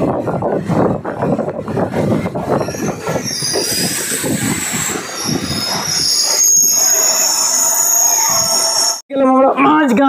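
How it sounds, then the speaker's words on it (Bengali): A night passenger train pulls into the small, empty Majhgaon station, wheels squealing loudly and rumbling close, with a high sustained screech building in the latter half and voices audible underneath. "আমাদের ট্রেন প্রবেশ করছে মাঝগাঁও স্টেশনে।"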